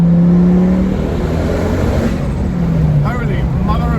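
A Ford Focus ST Mk2 with a block mod is driven hard in second gear, a loud, steady engine drone with rising harmonic bands of acceleration. Voices talk faintly over it toward the end.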